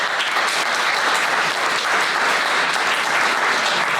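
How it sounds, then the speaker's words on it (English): An audience at a Massachusetts State Senate report event bursts into sustained applause, a dense, even wash of clapping from many hands throughout, with no voices standing out. "so give them a round of applause"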